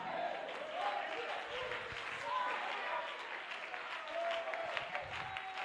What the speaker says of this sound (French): Oui, une acclamation, Seigneur.